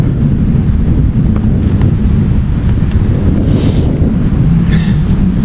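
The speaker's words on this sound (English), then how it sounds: "The wind!" Strong wind buffets the microphone outdoors at a soccer game, a loud, constant low rumble filling the whole clip with only faint higher noises above it.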